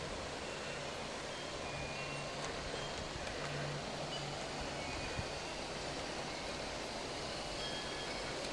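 A steady, continuous rumble and rolling hum of a model train running along an outdoor layout, crossing over its own track, with faint clicks and no voices.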